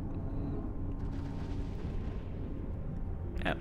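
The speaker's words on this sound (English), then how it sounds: "Hopefully a nice explosion." A faction citadel blowing up during a mass test in EVE Online: a long, rolling rumble with a deep roar that swells and fades, and a brief sharp burst near the end.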